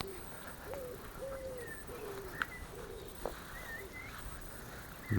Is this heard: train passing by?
no